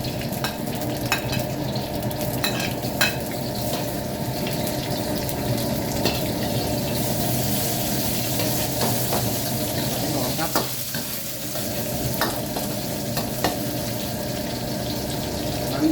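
Chili and garlic stir-fried in hot oil in a pan for a Thai mussel dish: a steady, close sizzle runs throughout, broken by scraping stirs and clinks from a utensil.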